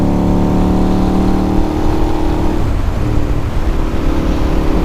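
Ducati motorcycle with a six-speed gearbox accelerating hard, its engine note loud and close, holding a steady harmonic drone that shifts pitch midway as the revs change.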